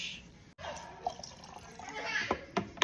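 Key lime juice splashes from a bottle into a drink mix, a short liquid pour with a few small clinks and drips, moderately close, with faint voices and light laughter in the background.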